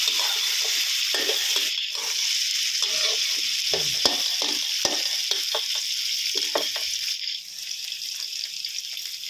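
Chinese kale stems sizzle steadily as they are stir-fried in a wok with garlic, with a loud continuous hiss and intermittent scraping and clanking of the spatula, and no talking.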